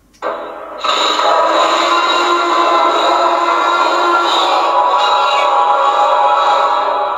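A Star Wars speeder effect from a toy lightsaber makes a loud, steady rushing whoosh with a gritty, scraping texture. It rises quickly and holds for several seconds with no talking.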